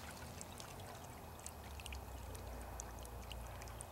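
Spring water flows outdoors in Running Springs, a soft, steady trickling wash heard quietly and continuously with faint splashes on top.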